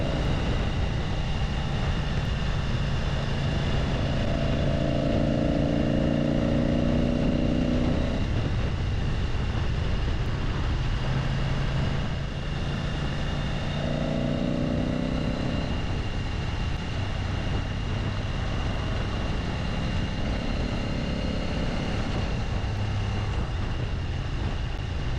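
A Ducati motorcycle cruises on State Highway 16 with a steady engine drone and heavy rushing wind, rising and falling in pitch as the rider shifts and changes speed, with no voices.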